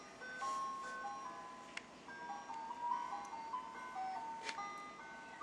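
An ice cream truck in North Idaho plays its tinny, repeating chime melody. The jingle sounds faint and somewhat distant, with no talking.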